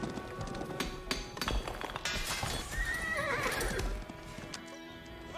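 A horse in the strategy game Age of Empires 4 whinnies loudly over quick clip-clopping hooves, with faint metallic clinks in the game's battle ambience.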